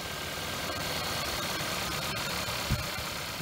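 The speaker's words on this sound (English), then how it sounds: "start up your car with those nodes on" A car engine idles steadily at close range with a constant low rumble, while a battery is checked with a multimeter; a brief low thump sounds near the end.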